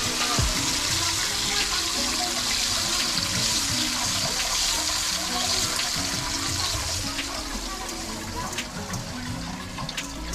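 A kitchen tap runs water while noodles are cooked, a continuous splashing rush that stays close and fairly loud throughout and eases off slightly near the end, with clinks and handling noises mixed in.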